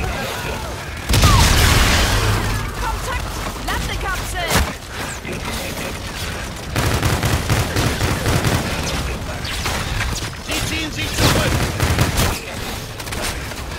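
Loud futuristic gunfire rattles through a Call of Duty: Infinite Warfare firefight, with a big grenade blast early on and bursts of shooting and impacts continuing throughout, while soldiers' voices call out beneath the din.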